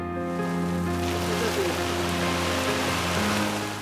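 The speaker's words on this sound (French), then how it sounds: "en braquant une canne à pluie sur la voiture" A steady, dense hiss of water from a rain bar spraying and pattering onto a car on a film set continues without a break, with a low engine-like hum underneath.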